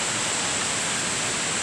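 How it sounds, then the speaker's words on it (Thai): Pong Phra Bat waterfall pours in a steady, close, full rush of falling water with no pauses and no voices. "น้ำตกโป่งพระบาทค่ะ"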